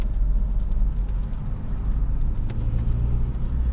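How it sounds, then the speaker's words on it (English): A 1989 Honda Prelude engine runs steadily at idle with a low, even rumble and faint ticking from the valves, heard up close without any talking. "Still a little bit of tapping from the valves"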